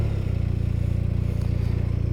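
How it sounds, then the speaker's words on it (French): BMW R 1250 RT boxer-engine motorcycle idling after starting, a steady, close, low throbbing pulse with even rapid firing rhythm and faint mechanical clatter, no voices. "Il y a le boxeur qui s'ébroue très simplement."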